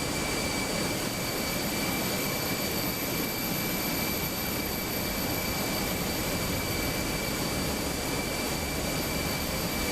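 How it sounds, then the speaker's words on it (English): Airbus A320 jet engines in Microsoft Flight Simulator 2024 (Fenix A320) run as a steady, loud roar with thin high-pitched whines layered on top, unchanging for ten seconds and with no voices. "requesting engine start and pushback"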